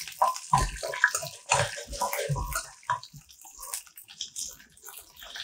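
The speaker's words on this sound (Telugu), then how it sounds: "చారెడు శనగపప్పు ముందు వేగనివ్వాలండి." Chana dal frying in oil in a pan while making green chilli mango pickle, a loud bubbling, crackling sizzle heard close up, busy and uneven throughout the short stretch, with no talking.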